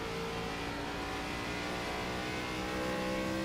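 On-board race car engine in a racing sim, the driver easy on the throttle: a steady, loud droning hum holds at an even pitch throughout, with no talk over it.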